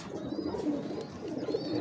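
Teddy pigeons coo softly nearby, low throaty burbling calls repeating in quick succession.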